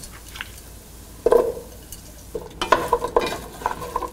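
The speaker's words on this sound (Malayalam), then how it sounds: "ഇനി ഇതിലോട്ട് എടുത്തു വച്ചിരിക്കുന്ന പൊട്ടറ്റോ ഇട്ട് ശരിക്കും മിക്സ് ചെയ്യുക." Potatoes being stirred into tomato masala in a pan for aloo gobi, with scattered spoon clinks and scraping against the metal over a faint sizzle, the bursts growing busier toward the end.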